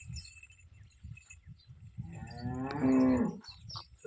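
A large pregnant ABS dairy cow lets out one long, deep moo up close, after soft thumping and shuffling in a quiet barn.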